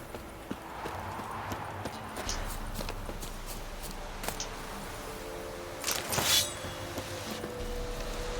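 The horse Roach in The Witcher 3 moving in steady clip-clop hoofbeats over ground, continuous and moderately close, with a brief louder rustle or burst partway through.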